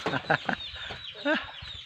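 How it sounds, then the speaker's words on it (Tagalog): Close, rhythmic clucking from a jungle fowl, a few short bursts followed by a longer warbling call, with faint background noise. "Yan ang ibon gubat."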